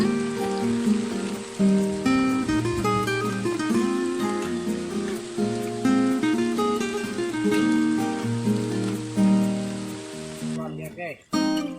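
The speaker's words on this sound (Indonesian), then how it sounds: "Hujannya gede lagi." Heavy rain falls during an afternoon fishing outing, a steady dense hiss that runs beneath loud music and voices before cutting off abruptly near the end.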